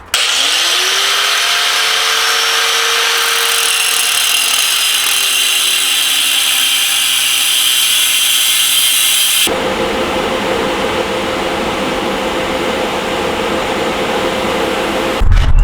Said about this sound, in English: But as of right now, we're just gonna grind it off.